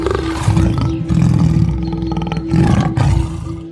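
Tigers roar in a jungle, deep, heavy and sustained, with several rising and falling bursts close and loud, layered over a steady low drone.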